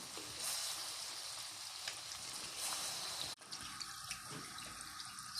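Lokma dough frying in hot oil while being stirred, a steady faint hiss and sizzle with a brief clatter of the stirring utensil partway through.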